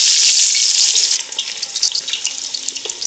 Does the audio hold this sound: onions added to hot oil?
yes